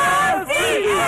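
A crowd of fans in the streets chants and cheers together for the Cats after the 2012 NCAA championship game, a loud, sustained mass of voices rising and falling close by.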